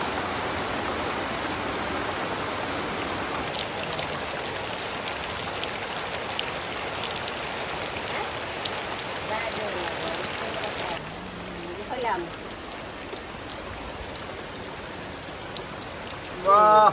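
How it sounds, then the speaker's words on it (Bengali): Torrential monsoon rain pours down steadily over a village outdoor cooking area, a dense unbroken hiss that continues throughout, with a brief louder clatter near the end. "একদম মুষলধারে বৃষ্টি হচ্ছে, শুধু বৃষ্টি আর বৃষ্টি।"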